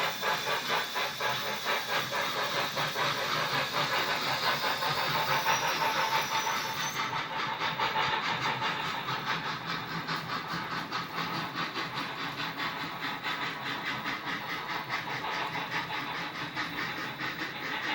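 Double-headed model railroad steam locomotives haul a hopper ore train of about thirty cars, giving a steady hiss and rapid rhythmic chuffing clatter close by, with no talk.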